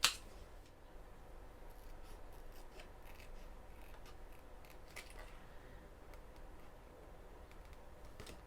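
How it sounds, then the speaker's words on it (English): Scissors snip a paper divider tab for a Gillio Belgium planner, giving faint, sparse little cuts and rustles over a steady background hiss, close but quiet, with no voices. "just make sure that you're cutting it from the top of the tab and not from the base of the tab."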